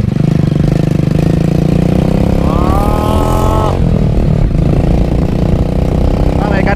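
A motorcycle engine idles and runs steadily and loudly close by, with a brief rising rev partway through, while people talk over it.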